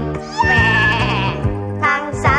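A goat bleats in a children's story, a loud, close, wavering cry that runs for about a second and a half, then breaks off and returns in a shorter second call.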